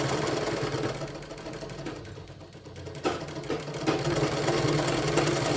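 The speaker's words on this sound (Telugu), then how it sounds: "చేతి సహాయంతో దీన్ని పట్టుకొని పట్టుకొని ప్రెస్ చేస్తూ కింద కాళ్ళతో తొక్కుతూ ఇక్కడ దారం అనేది కుట్టేసుకుంటాం" A Vidya treadle sewing machine, foot-operated, stitching with a continuous mechanical whir and rattle that runs loud and steady throughout, slowing briefly midway before picking up again.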